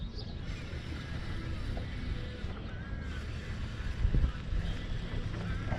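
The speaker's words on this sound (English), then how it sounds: "The wind's picking up." Wind gusts across a lake while fishing from a boat, a steady close rushing roar over the microphone with a brief heavier buffet near the end.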